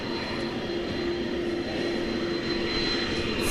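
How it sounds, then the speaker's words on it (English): A jet airliner serving as Air Force One taxis along a runway, a steady loud engine drone with a sustained whine holding evenly throughout, no voices over it. "Air Force One making its way on the runway towards us"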